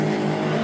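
BMW 116i Trophy race cars at Brands Hatch rush past in a loud, steady engine roar during a brief pass with no talk.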